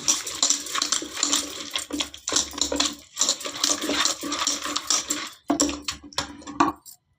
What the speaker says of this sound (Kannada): ಈಗ ಚೆನ್ನಾಗಿ ಮಸ್ತು ಬಿಡೋಣ.